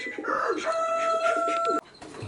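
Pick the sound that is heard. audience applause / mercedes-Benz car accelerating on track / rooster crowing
rooster crowing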